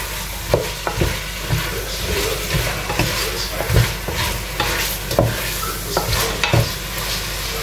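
Carrots and other vegetables sautéing in a pan: a steady sizzle broken by regular scraping stirs about once a second, close and fairly loud, with no talking.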